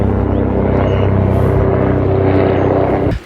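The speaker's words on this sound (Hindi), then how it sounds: "ये देखो भाई अभी एक और चक्कर आ गया हेलीकॉप्टर।" A helicopter passing over a Himalayan mountain village near the Madmaheshwar valley, its loud, steady rotor and engine roar close and continuous before cutting off abruptly at the end.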